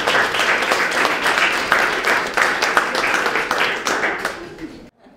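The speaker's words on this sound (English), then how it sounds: "let's give a round of applause for today's speaker" An audience applauds a speaker at a social media breakfast meetup, a dense, steady wash of clapping that holds for about five seconds before cutting off abruptly.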